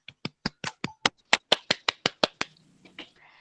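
In a primary classroom lesson, a group claps out a quick rhythmic pattern of about a dozen sharp, evenly spaced claps, close and crisp, ending in quiet shuffling.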